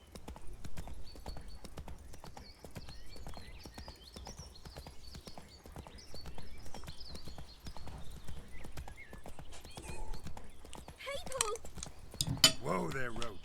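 Horse hooves clip-clop steadily at a walking pace in the Witcher 3 video game, close and fairly soft, with a brief rattle and clink near the end.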